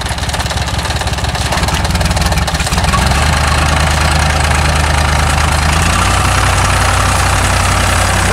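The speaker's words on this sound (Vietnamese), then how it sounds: "Thì ra chiếc này Shiboga là SD 3203, chiếc này đẹp." A Shibaura SD 3203 engine idling nearby, a loud steady diesel chug with a fast even knock that holds throughout and deepens slightly about a third of the way in.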